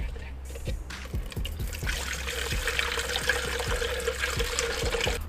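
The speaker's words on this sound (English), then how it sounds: "So gonna run water through and we'll start on that" Water running steadily through a car radiator being flushed during an SR20DET radiator install, a continuous trickling and splashing with regular soft thumps underneath, close and fairly quiet.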